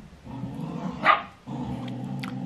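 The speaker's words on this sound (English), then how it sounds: "Dogs are fighting again" Dogs barking and snarling in a scuffle, a sharp loud burst of barks rising over a steady low rumble of background noise, close by.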